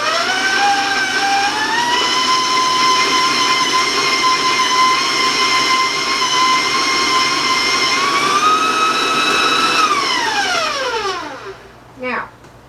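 An electric mixer beats a room-temperature egg into peanut butter batter with a loud, close, steady motor whine that rises slightly, then winds down and stops near the end.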